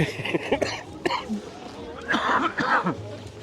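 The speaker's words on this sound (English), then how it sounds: "Excuse my coughing." Several close coughs break up a person talking, over a steady low background hum outdoors.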